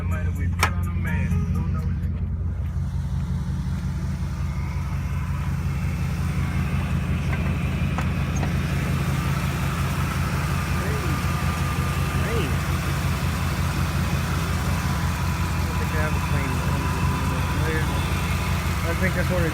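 A straight-piped V8 in a 2006 Dodge Ram 1500 SLT idles with a steady, loud low rumble, people talking over it near the start.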